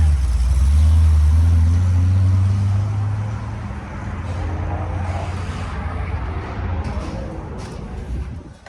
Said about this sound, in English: Harry's taking off in a C6Z. Damn, that thing sounds good.